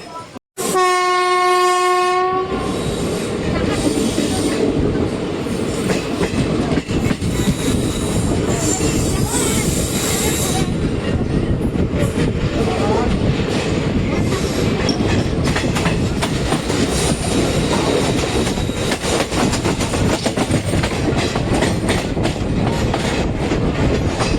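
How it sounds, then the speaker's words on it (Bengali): A loud train horn blasts as the train leaves Kolkata station bound for North Bengal, then it rumbles steadily on the rails with continuous clattering wheel noise and occasional squeals, close and sustained. "নির্ধারিত সময় থেকে 2 মিনিট লেটে ট্রেনটা ছেড়ে দিল কলকাতা স্টেশন থেকে"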